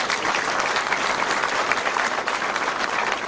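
Steady, dense applause from a large audience at a military school's annual prize-giving ceremony, a continuous wash of many hands clapping together at an even level for the whole stretch.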